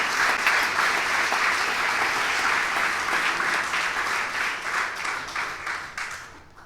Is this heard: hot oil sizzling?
no